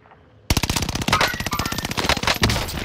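Loud, rapid automatic gunfire in a first-person shooter game, a sudden sustained burst of close shots firing in quick rhythm after a brief quiet start.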